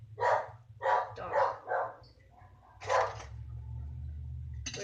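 A dog barks loudly several times in quick succession, pauses, then lets out one more bark, with a low rumble of traffic behind.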